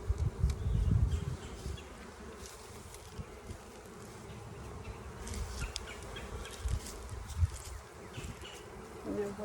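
Honey bees buzz around a hive box while the top box and brood box are rearranged: a continuous, fairly quiet swarm hum with louder low buzzes as bees pass close.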